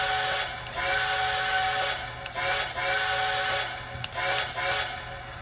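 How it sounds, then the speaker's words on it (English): A Lionel American Flyer FlyerChief 2-8-4 NKP Berkshire model train steam whistle sounds in repeated bursts, harmonic and sustained, with brief pauses between blasts at moderate volume. "Very quick responding whistle."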